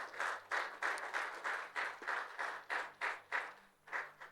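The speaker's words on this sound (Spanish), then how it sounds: "Vamos a dar un aplauso, hermanos." A church congregation gives brief rhythmic clapping at a graduation from a Bible institute. The claps fall in a steady, regular pulse of about two per second, are moderately quiet, and hold an even beat without cheering.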